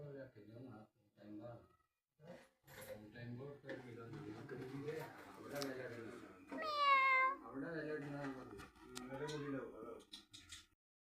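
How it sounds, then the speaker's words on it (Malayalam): Two cats lying at a shop meow over steady nearby talking, with one clear rising meow standing out midway among the voices. "കടയിലെത്തിയപ്പോൾ കണ്ടോ, 2 പൂച്ചകളാണ് കിടക്കുന്നത്."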